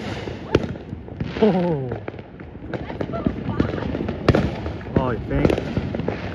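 New Year's fireworks burst in a rapid series of sharp cracks and pops, close and loud, while people talk and exclaim excitedly over the blasts.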